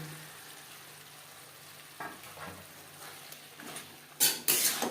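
Flat beans are stirred into spice paste frying in a pot for a rui fish curry. A low, quiet sizzle carries scattered scrapes, then louder metal-on-pot clatters come near the end.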